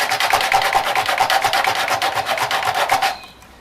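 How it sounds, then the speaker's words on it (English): A surface is rubbed to give it an aged, rusty look, with fast, even rasping strokes repeating close up for about three seconds before stopping abruptly. "Just by giving it a nice little rub, we end up with a great aged technique."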